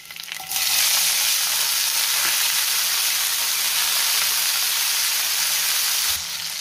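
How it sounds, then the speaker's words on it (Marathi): Garlic and tomato sautéing in a pan for coriander chutney, a loud, continuous close sizzle that starts abruptly and then steadily fills the air with hiss until it eases near the end. "टोमॅटो थोडा मऊ होईपर्यंत आपल्याला परतून घ्यायचा आहे"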